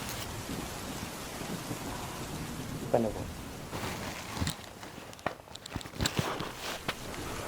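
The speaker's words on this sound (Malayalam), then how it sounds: "നല്ല മഴയല്ലേ" Heavy rain pours steadily as a broadband wash, with a few sharper knocks and footstep-like thuds rising out of it toward the end; no voices.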